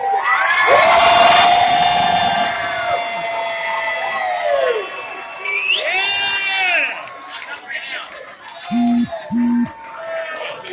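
A large crowd of Dodgers fans cheers and shouts loudly, with voices whooping and yelling over one another, then a few short bursts and calls near the end.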